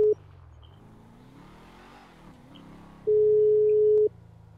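Unanswered phone call in the video game GTA 5: steady electronic ringback tones, a short beep at the start and then a long sustained tone after a gap, over a low engine-like game rumble with no talk.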